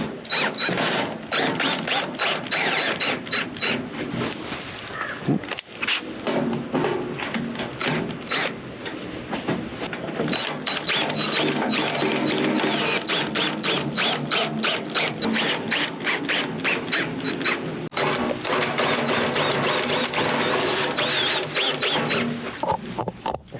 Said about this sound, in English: So I've got these real long deck screws, so I should be able to keep it centered, put multiple screws in from each thing